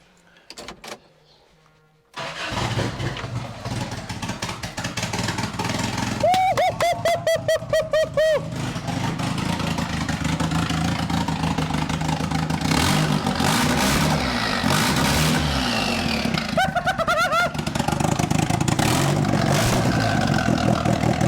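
A Toyota street truck engine cranks with a quick whirring starter, catches, and settles into a loud steady run with rough revving, close by, with no talk.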